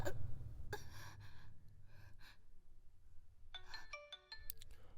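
A phone rings with a bright repeating electronic tone near the end, after some breathy gasps and sighs at the start.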